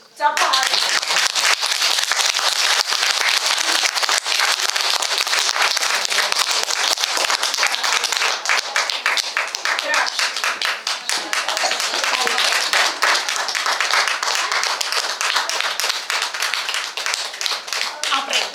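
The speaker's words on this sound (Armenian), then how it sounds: "Ծափահարեք։" Audience at a school end-of-year event for first graders bursting into sustained applause, dense continuous clapping from many hands lasting the whole stretch, loud and close, with some voices mixed in.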